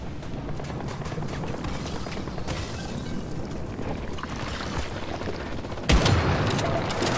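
Gunfire from the video game Once Human comes in rapid, dense bursts over a continuous roar, with a sharp, louder volley near the end.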